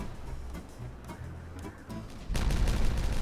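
Dynamite blasts in Timberborn: a few soft thuds and ticks lead into a sudden loud, rumbling detonation that holds strong to the end.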